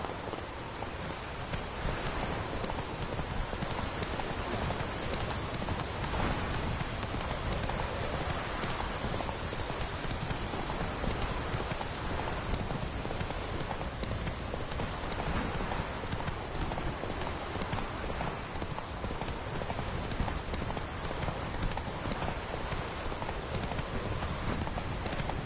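Roach, a horse in the video game The Witcher 3, trots with steady, continuous clip-clopping hooves over a dense, noisy game soundscape, with no talk.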